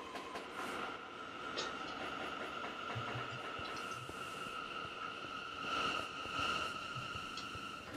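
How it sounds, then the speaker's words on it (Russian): A Moscow metro train running in the Metrostroi simulator game, a steady rolling rumble with faint rail clicks and a sustained electric whine, continuous and close, with no speech. "А вот наш поезд до Смоленской."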